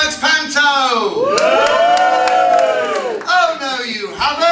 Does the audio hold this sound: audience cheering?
yes